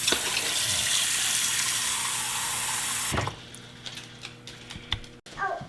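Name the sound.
filling a bowl halfway with tap water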